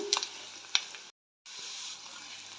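Fish frying in a pan makes a steady sizzle with a couple of small crackles, cut by a brief silence before the hiss resumes.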